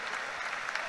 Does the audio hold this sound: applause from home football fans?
yes